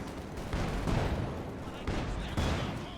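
Machine gun and rifle fire in Company of Heroes 2, a Soviets versus Wehrmacht match, dense crackling bursts in repeated loud surges, with a commentator talking over the battle noise.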